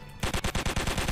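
Rapid pistol gunfire in the video game Shooty Squad: a close, loud burst of about nine evenly spaced shots following a brief quiet moment.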